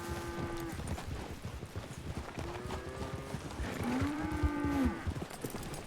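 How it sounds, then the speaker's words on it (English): Cattle moo repeatedly in the WildRP western roleplay game, several drawn-out, sliding lowing calls from a herd over a steady bed of clopping hooves and ranch ambience. "Where the fuck did all these cattle come from?"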